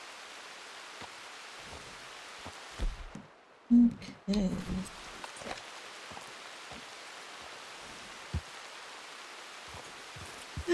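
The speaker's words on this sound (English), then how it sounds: "And now it is starting to rain." Rain falls in the mountains of Red Dead Redemption 2 as a steady, soft hiss of drops heard throughout. A few louder bumps and a brief spoken word break through midway.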